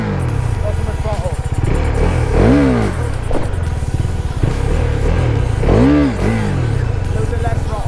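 A motorcycle engine revving hard, loud and close with rising and falling throttle surges and a rough low rumble, a voice speaking briefly over it.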